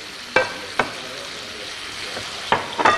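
Eggplant frying in oil in a pan, a steady close sizzle broken by a few sharp clicks and scrapes of stirring, with no talking.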